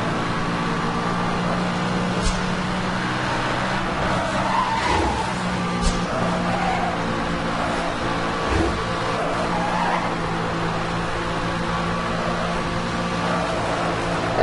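A McLaren in the Need for Speed Hot Pursuit video game holds a steady, loud engine drone throughout, with tires squealing and skidding intermittently.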